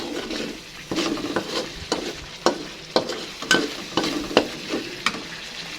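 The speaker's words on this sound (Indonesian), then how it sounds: "Jangan lupa untuk diaduk-aduk ya teman-teman, biar bumbunya itu nggak gosong." Spice paste frying in a pan for jackfruit coconut-milk curry, a continuous sizzle broken by regular scraping stirs of a spatula against the metal, close and clear, with no talk.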